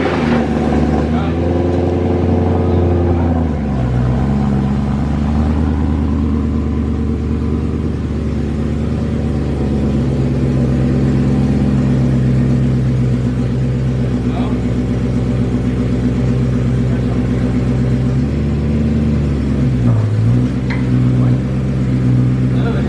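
A BMW M3 engine revs loudly with a deep, sustained exhaust rumble, rising and falling in pitch through repeated throttle blips, close by, with a voice speaking over it.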